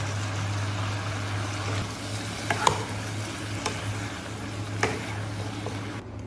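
Garlic cloves frying in a pan: a steady low sizzle with a constant low hum underneath, broken by a few soft clicks and scrapes, all at a quiet, even level with no talking.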